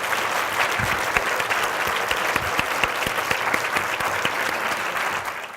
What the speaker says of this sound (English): I would like to request the audience to give a big round of applause to Dr. Armstrong and my mom back there